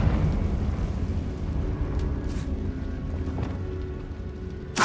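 A Confringo spell explosion bursts in Hogwarts Legacy, a deep rumbling blast that rolls on and decays over several seconds, with a sharp crack at the very end.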